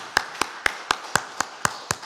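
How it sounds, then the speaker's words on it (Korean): A church congregation claps in unison for a member's birthday during a Sunday service, eight sharp, evenly spaced claps about a quarter second apart, close and crisp, with no voices. "우리 박수로 축하드리겠습니다."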